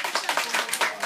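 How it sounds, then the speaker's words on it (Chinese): A small audience clapping at the close of a volunteer experience-sharing talk, a brisk patter of hand claps at close range lasting about a second. "来，大家拍拍手"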